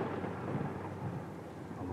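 Low, continuous rumble of thunder during a storm, steady and fairly faint, with a dense broadband wash that may include rain.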